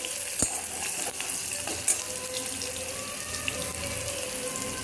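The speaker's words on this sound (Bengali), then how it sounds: "আর শাকটার জন্য আমি প্রথমে তেলে দিয়ে দেবো শুকনো লঙ্কা, দিয়ে দেবো রসুন থেতো করে কয়েকটা" Dried chillies and crushed garlic fry in hot oil with a steady close sizzle and crackle, a few sharp pops and scrapes of stirring breaking through, no voices.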